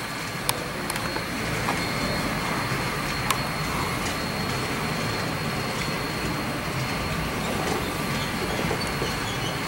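A model train runs on its track with a steady whirring rumble, occasional sharp clicks and a faint strained whine as its dirty wheels slip on the rails.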